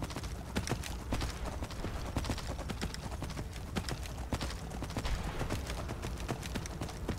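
Horse galloping in the video game Skyrim, a steady rapid clip-clop of hooves running without pause, fairly close and moderately quiet, with no one talking.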